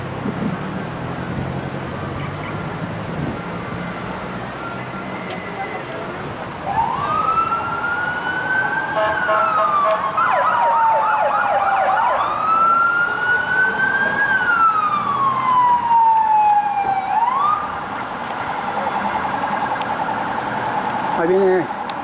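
A procession of police patrol cars escorting ashes through Durango, Mexico, passes with wailing sirens rising and falling for several seconds over crowd murmur and street noise, with people talking throughout.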